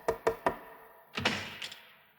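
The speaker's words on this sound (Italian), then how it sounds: "Una mattina, mentre faceva colazione, Aldo sentì bussare alla sua porta." Three firm knocks land on a wooden door in a quick even rhythm, then a heavier thud and rattle follow as the door is handled, close and clear with no voices.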